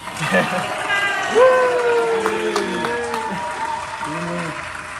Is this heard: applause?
yes